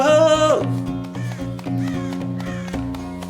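A carrion crow in a medieval video game gives a series of harsh caws, several rasping calls in a row, loud and close over a steady low musical drone.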